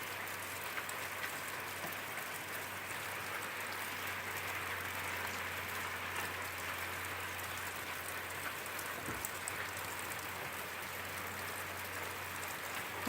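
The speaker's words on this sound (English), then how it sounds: "we're actually getting some rain here in Southern Oregon" Steady rain falls in Southern Oregon, a constant close hiss of drops on surfaces with no break and no voices throughout.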